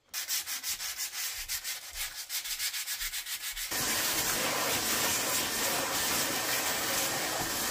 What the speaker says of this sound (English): now I'm gonna use a 120 grit sandpaper to try to smooth out the rim